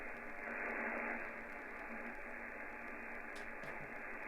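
Steady hiss and static make up the background noise of a radio receiver connected to a loop-on-the-ground antenna, an even wash of noise with no voices.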